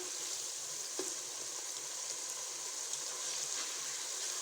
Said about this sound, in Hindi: अच्छी तरह मसाला भूनेंगे